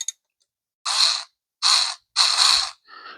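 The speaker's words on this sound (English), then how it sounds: "I'm going to use these two extensions on the ratchet to get those off" A ratchet fitted with two extensions loosens 10 mm bolts on a 2011 Dodge Nitro 3.7L, giving three close, crisp bursts of rapid clicking separated by short pauses, with a faint metallic rattle at the end.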